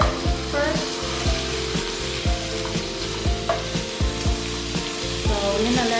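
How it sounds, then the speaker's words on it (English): Shrimp frying in a pan for Thai shrimp basil fried rice, a steady close sizzle broken by repeated scraping and stirring knocks of a utensil against the pan. "So I want to kind of golden brown the shrimp with some color first."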